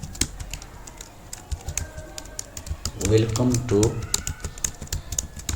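Computer keyboard keys click in quick irregular bursts while someone types Java code, a close, crisp patter that continues under someone speaking Hindi midway through.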